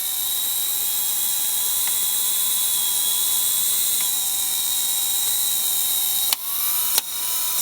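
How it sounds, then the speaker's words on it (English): The power antenna motor on a 1962 Cadillac runs with a steady high whine as the mast retracts, then a few sharp clicks as the clutch engages near the end, close and alone. "And there again is the fully retracted antenna with the clutch properly engaging."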